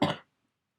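A single short cough, close and fairly loud, cuts off abruptly into silence.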